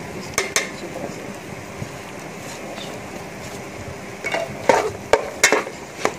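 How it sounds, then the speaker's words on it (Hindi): Semolina halwa with dried nuts fries in a pan under a soft sizzle, with scattered scrapes and metallic clinks of a spoon that grow busier and louder toward the end. "मेवे डाल के इसकी थोड़ी सी और फ्राई करेंगे।"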